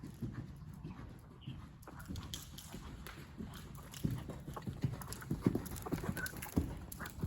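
Hooves beat in a steady rhythm as a horse canters during a dressage lesson, with a medium canter and 15-meter circles, while a dog pants nearby.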